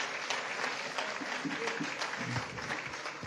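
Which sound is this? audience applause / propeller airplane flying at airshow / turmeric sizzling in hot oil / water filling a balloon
audience applause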